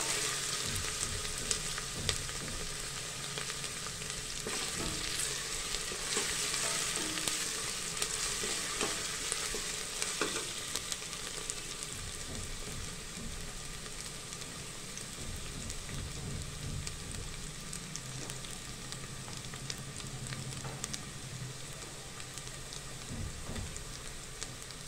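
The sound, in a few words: onions frying and being stirred in a pan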